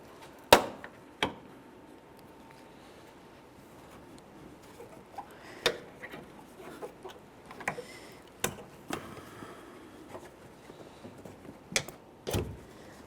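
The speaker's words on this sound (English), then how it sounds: "Typically, you just take hold of that push clip and pull it right out of place." Plastic push clips being pulled from a 2012-2018 Nissan Altima while a fog light kit is replaced: scattered sharp clicks and snaps at uneven intervals over quiet background, close and fairly faint, with no talking.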